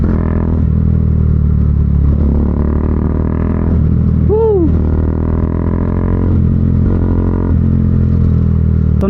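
Single-cylinder Bajaj Dominar 400 UG2 motorcycle fitted with a Zeus aftermarket muffler, its exhaust droning steadily and loud, with a brief rising-and-falling whine midway.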